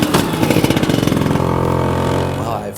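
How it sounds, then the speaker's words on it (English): A parked scooter's small engine runs close by, a loud buzzing idle with a rapid pulsing throb at first that settles into a steady drone before cutting out near the end. "I've parked the scooter"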